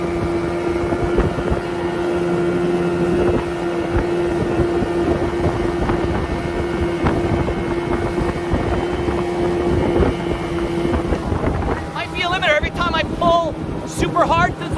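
A boat with a 1989 Yamaha Mariner 30hp outboard motor runs steadily at speed, its loud droning hum joined by wind buffeting on the microphone, with a voice speaking over it near the end.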